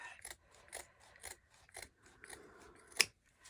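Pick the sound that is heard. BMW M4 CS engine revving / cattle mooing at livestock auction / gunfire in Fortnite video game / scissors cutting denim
scissors cutting denim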